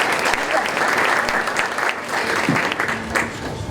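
A room packed with guests at a chamber of commerce power lunch claps together, a full, steady wash of applause that holds throughout, with faint voices mixed in beneath.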